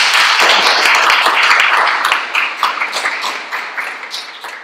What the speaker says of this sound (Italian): Alla grande, ragazzi, un applauso!